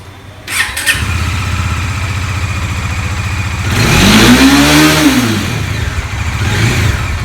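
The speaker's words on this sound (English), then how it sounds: "And now, let's start this motorcycle." A motorcycle engine starts with a sharp crank, settles into a steady idle, then revs up loudly and drops back before idling again, close to the listener.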